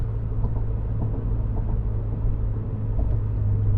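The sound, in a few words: car engine intake noise while driving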